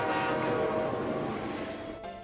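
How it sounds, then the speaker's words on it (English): A cartoon train rushing along at high speed, a dense steady rumble with a whistling tonal layer, loud throughout and cutting off abruptly near the end. "we're going to sleep in the train. Wow, look how super fast we're going, Gaspard."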